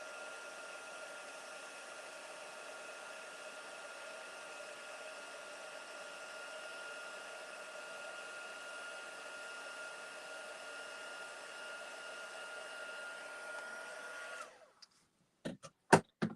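A handheld heat tool blows hot air in a steady, even whoosh for about fifteen seconds while embossed ink on a stamped card is heat set, then switches off, followed by a few light clicks and taps.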